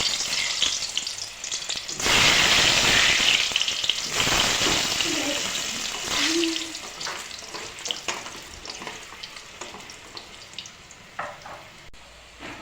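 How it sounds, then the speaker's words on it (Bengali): Boiled potatoes sizzle and crackle steadily in hot oil for a mukhi kochu curry, loud and close, with a burst of sizzling as they hit the pan, settling into a softer fry with occasional stirring. "তেল প্রায় গরম হয়ে গেছে, এখন আমি প্রথমে আলুগুলো ভেজে নেব।"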